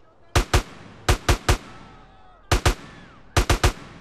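Gunshots in GTA San Andreas come as sharp, loud reports in quick pairs and triplets, separated by short quiet gaps, with no talking over them.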